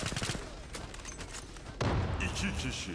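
Video-game gunfire heard through a Logitech G432 gaming headset: dense, continuous volleys of rapid shots with a heavier burst partway through, while someone talks over the action.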